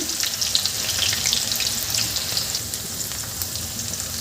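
Onion and green chillies hit hot oil with cumin in a pan, giving a loud, steady sizzle and crackle that carries on evenly throughout, with no talking.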